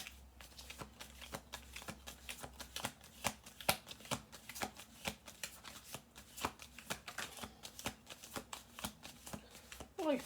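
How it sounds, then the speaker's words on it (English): A deck of playing cards is shuffled through again and again, riffling in quick bursts of crisp flicks and taps at close range, with no talk over it. "Okay, 2 more shuffle throughs."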